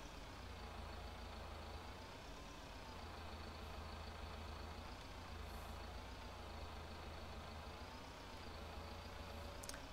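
A tractor engine idles in Farming Simulator 19: a steady, even diesel rumble with a low drone that holds constant throughout. It plays alone and faint, with no talking over it.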